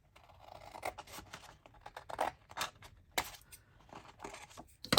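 Scissors snipping paper scraps for a tea-themed junk journal, a series of short crisp cuts and scratchy paper rustles in an irregular rhythm, close and fairly quiet.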